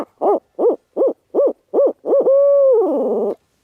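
A handheld owl hooter call blown by a turkey hunter gives six short, evenly spaced hoots, then a longer drawn-out hoot that wavers and trails off, close and clear with no talking.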